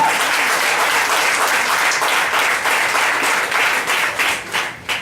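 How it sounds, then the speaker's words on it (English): Loud, sustained applause from the crowd at a spoken-word poetry night in Tampa fills the whole stretch, a dense steady roar of many hands that thins slightly near the end. "You can clap for that."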